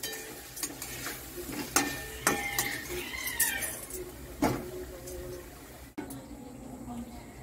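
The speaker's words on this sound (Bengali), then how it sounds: "নাড়াতে থাকবো" A spoon stirs curry in a pot over lowered heat, giving intermittent scraping clinks and soft sizzle at a moderate level, with a few sharper metallic knocks.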